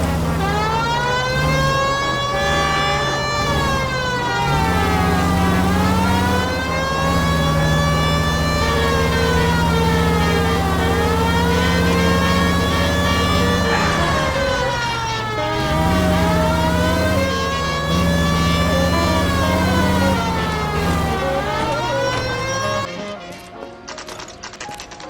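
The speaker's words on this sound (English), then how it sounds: "Put the siren on!" A wailing police car siren in the video game LA Noire, rising and falling in long sweeps over a car engine. It is loud and continuous and cuts off near the end.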